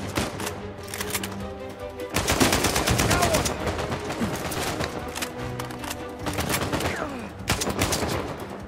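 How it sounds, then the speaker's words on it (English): Dense gunfire in the video game Uncharted 4, with a shotgun-wielding enemy: loud, continuous crackling bursts of shots that rise and fall over several seconds amid game music and ambience. "Oh, he's got a shotgun."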